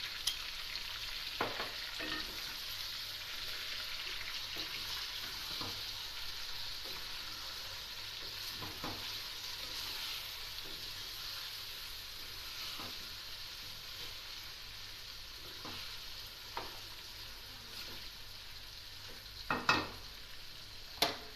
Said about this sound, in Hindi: इसको फ्राई करते हैं।